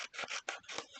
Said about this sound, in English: These scissors need a little alcohol cleaning.